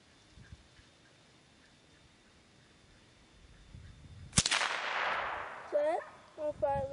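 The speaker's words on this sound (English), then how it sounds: "Keep shooting." A single loud gunshot from target shooting cracks sharply partway through, with a decaying echo after it, preceded by quiet outdoor ambience and followed by brief talk.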